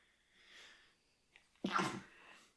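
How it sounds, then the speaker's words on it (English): One sharp sneeze, close to the mic, after a soft breathy intake, with quiet around it. "Sneeze."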